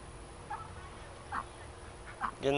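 Scattered short duck quacks and honks, three or four calls spaced apart, ending in a louder, nearer call.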